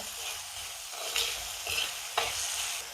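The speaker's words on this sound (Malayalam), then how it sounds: "മീഡിയം സൈസ് രണ്ട് തക്കാളി ഇതും നന്നായിട്ടൊന്ന് വഴരട്ടെ" Two medium tomatoes sautéing with onions in a pan for a Malabar-style mackerel curry, a steady close sizzle broken by a few soft stirring scrapes.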